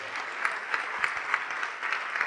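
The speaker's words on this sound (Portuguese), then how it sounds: "vamos aplaudir mais" A church congregation applauds during a service, a steady wash of many hands clapping with rhythmic surges, moderately loud and continuous with no talk over it.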